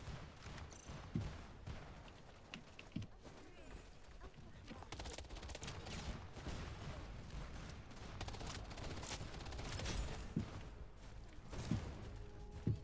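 Rapid gunfire crackles through a PvP match in the shooter game Wild Assault, with bursts and scattered shots over busy background action. The shooting is moderately distant and continuous, and a player's voice talks over it.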